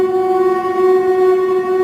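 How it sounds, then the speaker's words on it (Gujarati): A train at Surat railway station sounds a steady, loud, tonal horn that holds unbroken for about two seconds, close by, with no voices. "હવે તમે ટ્રેન જોઈ લો"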